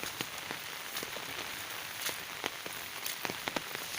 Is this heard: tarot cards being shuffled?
no